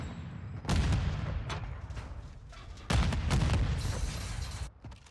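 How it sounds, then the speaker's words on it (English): Call of Duty match gunfire in a collegiate esports game: bursts of rapid shooting and booming blasts come in two loud waves, each dense burst fading off before the next. "Lots of gunfire and stuff going on."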